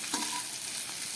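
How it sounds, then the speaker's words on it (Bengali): Bitter gourd slices frying in a generous amount of oil, a steady close hiss of sizzling with a light scrape of stirring, no voices. "উচ্ছেগুলোকে খুব ভালো করে একটু তেল বেশি দিয়ে আমি ভেজে নিলাম।"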